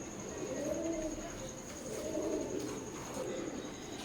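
Teddy pigeons, a young zero-feather pair of the Teddy 128 bloodline, coo softly in a few low, rolling phrases against faint background noise.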